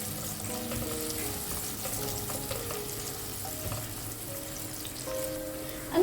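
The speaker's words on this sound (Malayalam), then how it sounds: "ചെറിയ ഉള്ളി ഒന്ന് ചെറുതായിട്ടൊന്ന് വാട്ടിയെടുക്കാം." Small shallots sauté in hot oil with a soft, continuous sizzle, fairly quiet and even, with occasional faint clinks.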